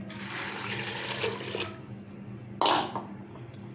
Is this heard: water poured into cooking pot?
yes